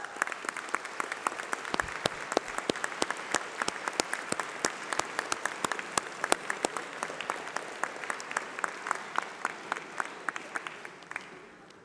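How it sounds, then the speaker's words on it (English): A graduation ceremony audience claps steadily for course representatives, a dense, even patter of many hands that holds throughout and then tapers away at the end. "please stand up as we give you a round of applause"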